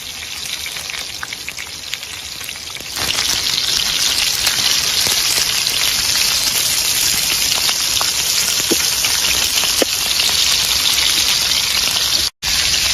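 Tiger prawns in masala sizzling hard in a hot pan, Malnad style, a steady dense crackle close up with no voices, briefly cut near the end.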